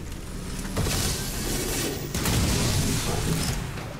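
Weapons fire in a final-mission battle in the video game XCOM 2: War of the Chosen, with loud, overlapping bursts and booms against armored enemies, heard up close with no talk.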